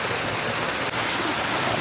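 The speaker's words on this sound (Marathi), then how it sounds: "ह्या कोपऱ्यामध्ये एक नॅचरल झरा आहे" A natural spring flows through a corner of the forest near Chiveli in Konkan, Chiplun, making a steady, close, continuous rush of water with no pauses and no talk.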